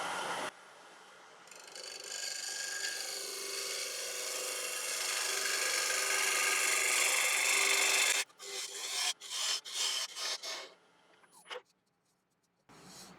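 A turning tool cuts African mahogany spinning on a lathe, giving a steady, loud rasping scrape for about eight seconds, then a few short choppy passes before the machine falls quiet.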